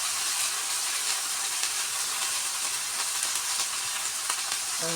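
Spice paste of ground cumin, ginger, coriander and mustard frying in a pan for a Bengali bata fish dish, a steady close hiss and sizzle running unbroken and fairly loud throughout, with no talking.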